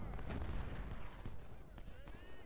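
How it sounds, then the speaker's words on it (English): Four brigades fire in the Civil War video game Ultimate General: Civil War, a dense rumbling barrage of overlapping musket and artillery booms rolling steadily without pause, with a voice speaking over it. "You can see here we've got four brigades firing in on Benton."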